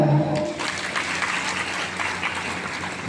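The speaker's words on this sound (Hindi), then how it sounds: "एक बार आप सभी के लिए पूरी ताली हो जाए।" Business gathering audience clapping together in a hall, a steady burst of applause heard at moderate distance after a short moment of speech at the start.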